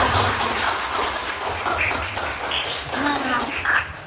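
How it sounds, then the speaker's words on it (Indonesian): Students at SMA Negeri 1 Selong clap together in a hall, a loud, thick wash of applause lasting a few seconds, with some voices mixed in. "Tepuk tangannya dong teman-teman semua"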